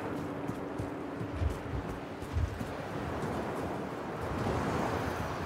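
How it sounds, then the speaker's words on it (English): Snowy wind howls steadily in a frozen tundra level of the video game Modern Warfare III, a broad low rush with a few heavier gusts and no talk. "Wind's picking up snow."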